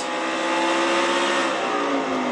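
A stock car's engine screams at very high revs at Martinsville, climbing to around 8,500 RPM. It is one loud, close, continuous whine that bends slightly in pitch and has no talk over it.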